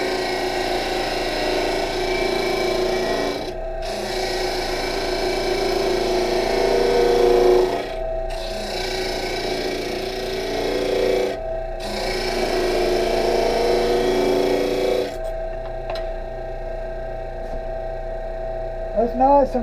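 Power sander smoothing a wooden feature ring flat, a steady abrasive whirring rasp broken by three short pauses, then stopping near the end.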